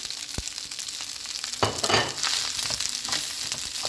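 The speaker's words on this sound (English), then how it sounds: "So now guys, I'm gonna add my egg" An egg hits a hot pan for Jamaican-style shrimp and chicken fried rice, bringing a sudden surge of loud, steady sizzling and crackling after a quieter frying hiss and a single soft knock.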